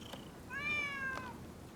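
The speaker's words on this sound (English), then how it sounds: "Who'd have thought a stray cat would wander in?" A stray cat in the Rise of the Ronin video game gives a single drawn-out meow, fairly faint, over a quiet ambient background with no talk.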